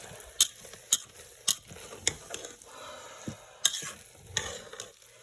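Risotto stirred in a pot, a spoon scraping and knocking against the pot in a steady rhythm of about one stroke every half second, close and clear over a gentle sizzle.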